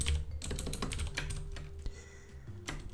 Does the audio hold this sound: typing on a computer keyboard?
yes